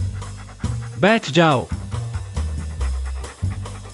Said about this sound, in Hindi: डरो मत, यह मेरा पालतू कुत्ता है।